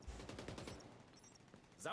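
Gunfire in the Division 2 video game, a quick burst of rapid shots over the first second, quieter rumble after, then a sharp bright sound at the end.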